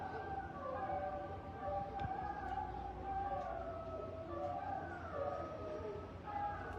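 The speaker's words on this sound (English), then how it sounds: "It's a whole bunch of dogs howling in the background." Many dogs howl together in the distance, long overlapping wavering tones that rise and fall continuously, faint and siren-like beneath a quiet background.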